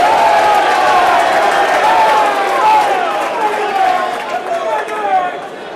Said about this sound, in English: And obviously brings a large cheer